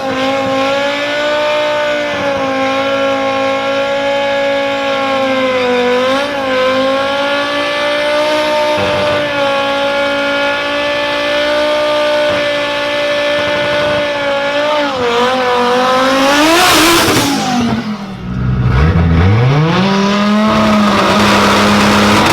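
A 1,300-plus horsepower Audi RS3 drag car revs hard and accelerates, its loud engine note holding steady for about seventeen seconds before a sharp rising sweep, a brief dropout, then a lower steady drone.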